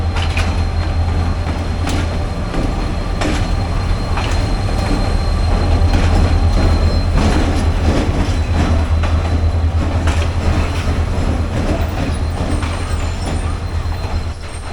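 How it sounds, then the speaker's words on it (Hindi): A Karachi Express passenger train bound for Lahore, hauled by a HEV30 locomotive, rolls into a station platform with a steady loud rumble, wheel and rail clatter and occasional squeals, continuous throughout and without talk. "15 अब कराची एक्सप्रेस पहुंच रही है।"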